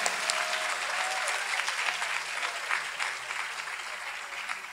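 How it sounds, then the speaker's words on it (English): A university lecture-hall audience gives a steady round of applause, dense and even throughout at moderate loudness, with no one speaking over it. "if you can all just give me a round of applause"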